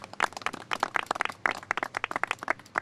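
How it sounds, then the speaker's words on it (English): A small audience gives a short round of applause at a rail project announcement, sparse individual claps heard distinctly in an uneven, rapid patter, fairly faint and without any talking. "So let's give him a round of applause."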